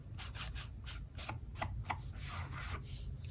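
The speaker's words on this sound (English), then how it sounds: "you just take a brush, and you can rub hard" A brush rubs gilded leafing foil onto a stamped card in firm back-and-forth strokes, a soft close scratchy rasp repeating steadily, no voices.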